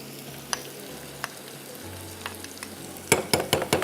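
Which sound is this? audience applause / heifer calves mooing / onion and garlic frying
onion and garlic frying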